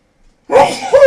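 A single sharp sneeze bursts out close by, followed quickly by a second shorter sneezing sound, with no talking.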